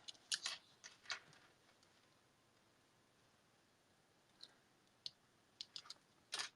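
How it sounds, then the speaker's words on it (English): Scissors snipping a foam adhesive strip for a stamped ice cream shaker card: a few crisp snips early on, then a quick cluster of sharp cuts near the end, all quiet and close with no talk. "grab my scissors, snip at the end"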